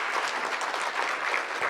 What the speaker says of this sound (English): You can clap for them, yes.